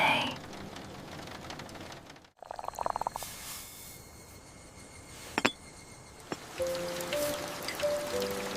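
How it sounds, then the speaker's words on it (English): Soft rain falls in a calm animated scene, a faint steady patter and hiss broken by a brief silent gap, with a few scattered drips and taps rising above the wash. "Rain feels so calm today."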